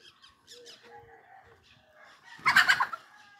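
Scattered soft clucks from a hen lead into a loud, raspy rooster crow near the end, close by and clear.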